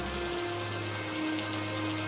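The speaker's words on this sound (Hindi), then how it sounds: "बाहर तेज बारिश लगातार हो रही थी।" Heavy rain pours down outside during a flood, a dense unbroken hiss of drops drumming on surfaces, loud and constant, with a faint low hum underneath.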